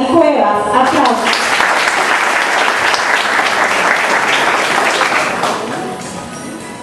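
A ceremony audience breaks into loud, dense applause that holds steady for several seconds before tapering off at the close.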